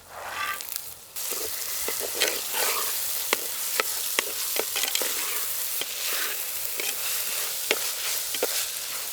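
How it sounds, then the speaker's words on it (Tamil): Chopped carrots, beans and soaked green peas with onions sizzle in a frying pan for egg keema masala, with loud continuous frying and frequent clattering scrapes of a spoon mixing them, close up. "வெஜிடபிள்ஸ் எல்லாம் சேர்த்து நல்லா கலந்து விட்டாச்சுங்க"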